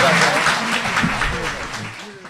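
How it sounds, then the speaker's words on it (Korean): A studio audience bursts into loud applause that slowly fades over a couple of seconds, with a voice briefly audible underneath. "박수 부탁드립니다."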